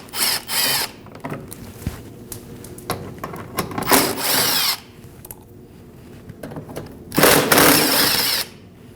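Power tool or drill bursts removing 10mm bolts from a Toyota 4Runner front bumper, several separate whirring runs of a few seconds each with quieter gaps between, close and fairly loud.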